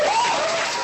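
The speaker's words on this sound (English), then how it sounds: "The crowd goes wild." An audience at a meetup in Seoul, South Korea applauds loudly and steadily, a dense wash of clapping that fills the whole short moment without any talk.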